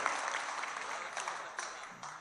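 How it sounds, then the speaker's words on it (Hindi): An audience at a mushaira in Warud applauds to welcome a poet; dense clapping runs continuously for a couple of seconds with a few sharper bursts, fairly close and even in loudness. "जोरदार तालियों से इस्तकबाल करें"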